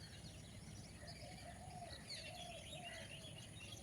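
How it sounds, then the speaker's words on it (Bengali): Parrots calling from trees in the morning, with faint, distant chirps and squawks repeating irregularly over a soft, steady outdoor background. "দেখো কত টিয়া পাখি।"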